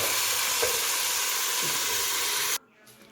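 Fried onion topping poured into a dried pasta pot hisses and sizzles loudly up close in a dense, steady crackle, with a faint stir, then cuts off abruptly near the end.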